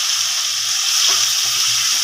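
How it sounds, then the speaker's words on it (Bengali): Onion fries in hot oil with whole spices for a mutton and potato curry, a close, steady sizzling hiss broken by soft scraping stirs, with no voices. "পেঁয়াজটা একটু ভাজা হোক অল্প।"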